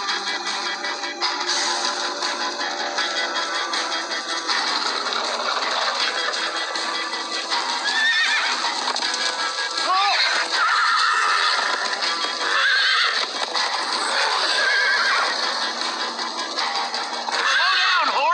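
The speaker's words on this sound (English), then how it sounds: "Slow down, horse!" A horse in the Minecraft Story Mode video game neighs and whinnies repeatedly over rapid galloping hoofbeats, loud and continuous, with characters' voices mixed in.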